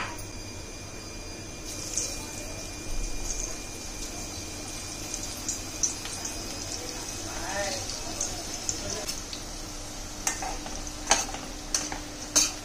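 Masala-coated bitter gourd pieces frying in hot oil over a high flame, a steady soft sizzle running throughout with occasional sharper crackles and bursts as pieces go in.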